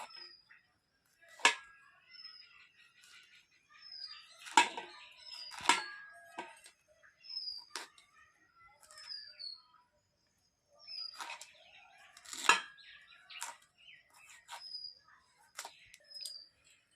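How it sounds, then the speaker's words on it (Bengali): A knife cutting repeatedly into the stem of a whole cauliflower, giving sharp, close crunching snicks spaced irregularly across the stretch, with quiet gaps between them. "আমি ছুরি দিয়ে পুরোটাই কেটে কেটে নিচ্ছি"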